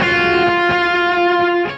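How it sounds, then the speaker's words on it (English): Electric guitar played through a worship pedalboard with the reverb switched off, giving a driven, distorted tone; a single sustained chord rings loudly with a couple of re-strums before being cut off abruptly. "In the big part of the song, I would just flip off the reverb and it would sound like this."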